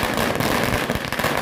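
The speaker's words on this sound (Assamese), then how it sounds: "আৰু এনেকৈ হাজাৰ হাজাৰ বোমা এনেকৈ মাৰি কিনে লৈ গৈ আছে দুৰ্গা মাক" Firecrackers burst in dense, rapid crackling volleys at a Durga Puja procession during Ravan Dahan celebrations in Tihu, Assam, loud and nearby with no clear talking.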